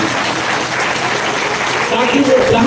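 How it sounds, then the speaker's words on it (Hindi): An audience at an Indian railway goods-shed workers' union gathering applauds in a dense, continuous wash of clapping, with voices mixed in. "मैं चाहूंगा कि आप खड़ा होकर के उनको तालियों से, गड़गड़ाहट से आप उनका अभिनंदन करें"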